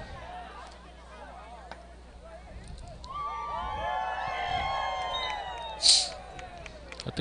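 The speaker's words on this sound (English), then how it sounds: "Got the crowd riled up doing a little wave action" A baseball crowd at a high school playoff game cheers as fans do the wave, a distant rising swell of voices and whoops under a commentator's talk, with a sharp whistle-like peak near the end.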